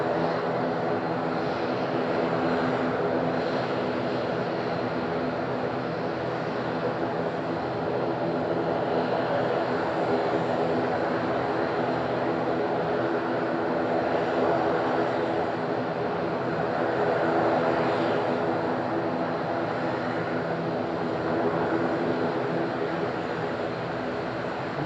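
A steady, loud roar of an airplane engine fills the whole stretch at Madeira Island Airport on a windy day, a broad continuous rumble with no pauses.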